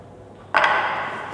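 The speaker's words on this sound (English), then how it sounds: "This diagram must be over here, so that's why I would rub out this" A board being rubbed clean, heard as a sudden scraping swish that starts abruptly and carries on steadily for under a second, close and moderately loud.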